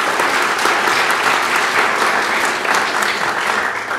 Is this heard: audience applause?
yes